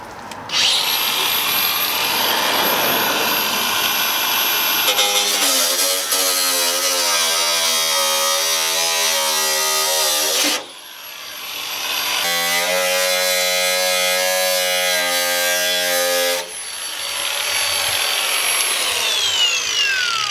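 A power tool grinds metal with sparks flying, a loud continuous whine that holds steady for several seconds, cuts out briefly, then spins up again in long sustained passes with shifting pitch as the disc bites and frees.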